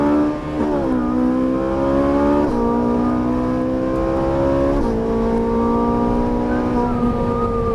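A Ferrari 458 Italia accelerates hard on a racing track, its engine rising in pitch through several upshifts, loud and close, with no one speaking.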